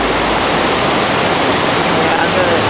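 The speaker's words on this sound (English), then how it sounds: "Now here's where the river flows out of Exeter." Flooded river rushing out of Exeter, New Hampshire, a loud, dense, continuous roar of fast-flowing water heard close up without pause, like a waterfall.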